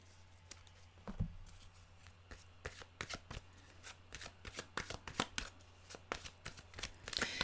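A deck of animal oracle cards being shuffled by hand, soft riffling flicks in uneven bursts with a low steady hum beneath, quiet and close.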